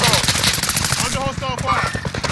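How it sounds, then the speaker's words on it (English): Rapid automatic gunfire in a first-person shooter video game, loud and continuous, with a voice speaking over the shots. "Under hostile fire."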